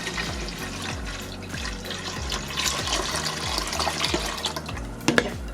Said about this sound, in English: I pour it into a nice big pan.